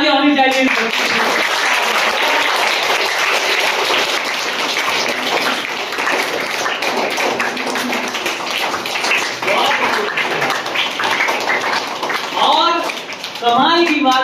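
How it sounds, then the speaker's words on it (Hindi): Children and adults at a primary school calligraphy centre clap loudly and continuously, with a voice speaking over the applause toward the end. "जोरदार तालियां होनी चाहिए"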